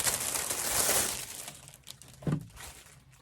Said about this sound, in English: These plastic bags keep them like really compact.